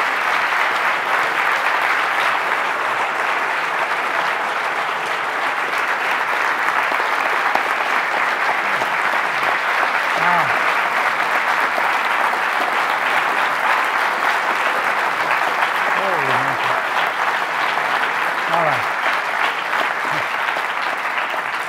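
Sustained, even audience applause at a physics lecture on gravitational waves and a binary black hole collision, a broad wash of many hands clapping steadily throughout.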